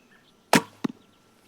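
An arrow loosed from an old compound bow converted into a traditional recurve: a sharp, close release snap followed about a third of a second later by a quick thud as it strikes, with no talking.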